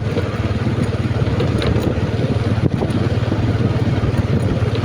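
A borrowed motorcycle's engine runs steadily nearby, a low, continuous rumbling drone with a faint rattle on top, holding an even level throughout with no talking.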